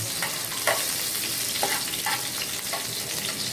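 Onions fry in a pan with a constant, dense sizzle, punctuated by soft scraping stirs every half second or so, with no voices.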